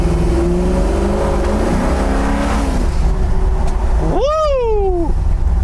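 A 1972 Chevy Nova on a test drive pulls hard with a steady engine roar heard from inside the car, and its pitch rises sharply near the end.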